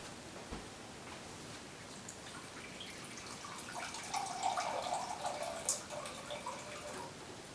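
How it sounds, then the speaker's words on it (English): Water from a Berkey filter tap trickles and splashes steadily into a cup, faint and close, with a few small drips and clinks, and no talking. "I'm going to get 1 cup of cool non-chlorinated water from my Berkey"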